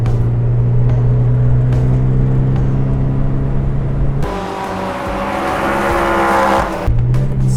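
A Mazda Miata race car drives on a track, its engine droning loud and close, with the pitch shifting sharply midway as the car changes gear or load.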